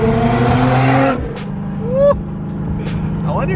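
A BMW E92 M3 drives with a strong engine drone that drops away after a second, then squeaks and chirps follow over a low steady rumble.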